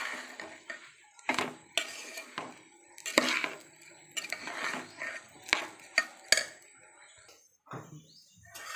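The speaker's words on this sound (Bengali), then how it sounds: "দেখো আমার চাল নাড়া হয়ে গেছে ঘিয়ে।" A spoon scrapes and clinks against a pot as rice is stirred in ghee, in a series of irregular metallic scrapes and taps with quiet pauses between them.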